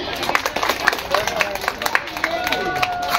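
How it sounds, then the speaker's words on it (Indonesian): Crowd applause at a school young-preacher competition for a Maulid Nabi celebration: scattered clapping with crowd murmur, heard under a voice talking over it. "Berikan tepuk tangan yang meriah."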